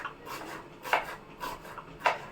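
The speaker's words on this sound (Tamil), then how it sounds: "வெங்காயத்தை மெல்லிஸாக கட் பண்ணிடுறேன்" Thin slices of onion cut with a kitchen knife on a board for a Tamil kara kuzhambu, giving soft rasping strokes with a few sharper taps at an irregular, unhurried pace, close and fairly quiet with no talking.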